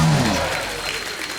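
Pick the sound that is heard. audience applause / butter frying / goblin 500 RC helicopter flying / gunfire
audience applause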